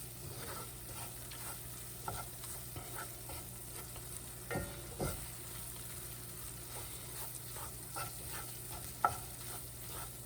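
Homemade sausage gravy bubbles in a pan, a quiet steady sizzle punctuated by a few spoon scrapes and clicks as it is stirred.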